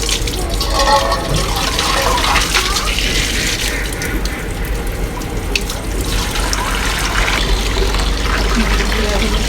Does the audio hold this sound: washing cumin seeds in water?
yes